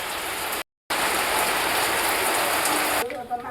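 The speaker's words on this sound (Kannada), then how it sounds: "ಈಗ ಸದ್ಯಕ್ಕೆ ಮಳೆ ಬಂತು" Rain falls steadily outdoors as a loud, dense wash of hiss and patter, broken by a short dropout and thinning near the end.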